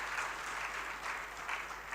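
Applause from an audience at an International Customs Day celebration, a faint, distant wash of clapping that holds steady for a couple of seconds.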